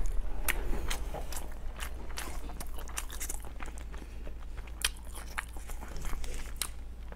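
Close, wet chewing and biting of pig head meat with lamb intestines, steady crunchy mastication with repeated sharp bites, loud and near with no talk.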